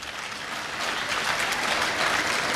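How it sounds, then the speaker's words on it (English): An audience at a youth ambassador program gives a round of applause, dense and steady clapping that swells slightly partway through and carries on loudly to the end. "Give them a round of applause."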